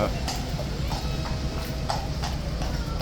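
A massive horse with four white socks walks on hard ground, its hooves clip-clopping in a steady, moderately close rhythm over low background noise, with faint voices nearby.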